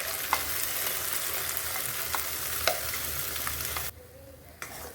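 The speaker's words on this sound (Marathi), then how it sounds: "वाटण छान परतून घेतलं आहे बघा, कलर किती छान आलेला आहे।" Masala paste sizzling and frying in a pan for a spicy popti vegetable gravy, a steady dense hiss with faint stirring scrapes, cutting off abruptly near the end before a brief return.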